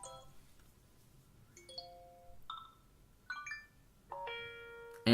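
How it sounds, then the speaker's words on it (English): An iPhone iOS 7 alert tone series: short electronic chime tones, each a quick bright melodic figure, play one after another with brief pauses, ending in a longer sustained chord. "Here we also have the alert tones that is new."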